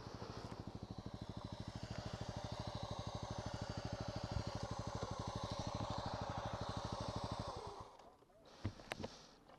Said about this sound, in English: Oh, I hear a bike. I see a bike.